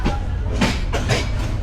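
Mohonganj Express-789 train running on the rails between Dhaka and Mohonganj, a steady close rumble with rhythmic clatter bursts from inside the carriage, with faint crowd noise mixed in.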